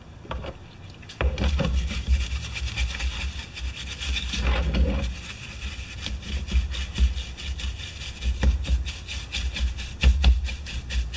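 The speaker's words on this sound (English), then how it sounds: "We'll just use the wet brush." A wet brush scrubs a broken, rusty recoil rope spring from a Honda lawn mower, giving steady rasping strokes in an uneven rhythm, close and fairly loud, with no talking.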